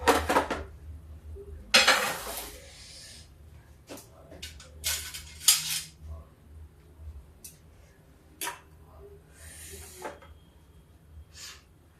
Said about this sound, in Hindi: ये देखिए तवा को उतार लेते हैं, गैस हमने बंद कर देते हैं।